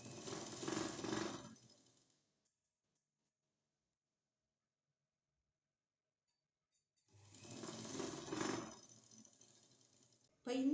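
A sewing machine stitches the folded hem of a silk skirt in two steady mechanical bursts, the first about two seconds long and the second about three, separated by several seconds of silence.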